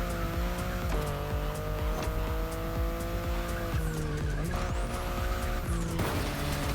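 A BMW in The Crew: Motorfest revs steadily and loudly, its engine note rising and falling through gear changes while tires squeal and skid, continuous for about seven seconds.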